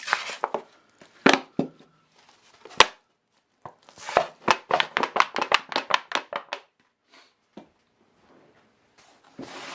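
Biochar is worked into garden soil by hand, giving sharp, crunchy taps and scrapes in irregular clusters, including a quick rhythmic run of strikes in the middle, heard close and otherwise quiet.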